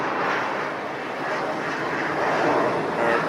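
A Boeing 747 cargo freighter at LAX gives a steady, broad jet engine roar, loud and continuous throughout, with no talk.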